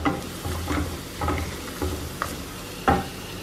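Onion frying with garlic and ginger in a pan for Kerala-style chicken curry: a constant sizzle punctuated by irregular spoon scrapes and stirs, one sharper knock near the end.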